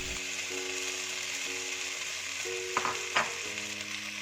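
Tofu stirred in a pan with serrano and chili peppers, giving a soft steady sizzle with a couple of brief scraping stirs near the end under a constant low mechanical hum.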